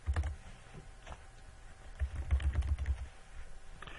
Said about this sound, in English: type the patient's name with the last name first